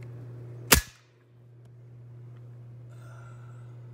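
A JSAR Hawk .25 air gun, its valve redesigned, fires one sharp, loud crack close by, followed by a quick decay and then a steady low hum of background noise.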